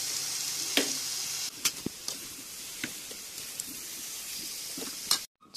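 Jackfruit pieces fry over high heat in a pan, giving a constant close sizzle with occasional clinks and scrapes of stirring, until it cuts off abruptly near the end.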